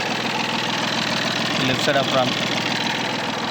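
A 2019 Tata Tiago XT diesel car idles with a steady low engine drone while someone talks over it.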